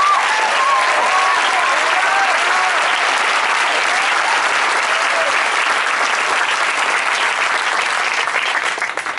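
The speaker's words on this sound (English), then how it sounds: "So please give her a round of applause for that." An audience at a high desert school promotion ceremony applauds loudly and continuously, a thick, sustained wall of many hands clapping that holds steady before easing off slightly at the end.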